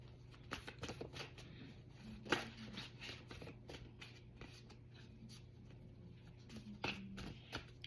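Playing cards shuffled for a reading, riffled and flicked in quick soft bursts with a few sharper snaps. The sound stays close and quiet throughout, with no speech.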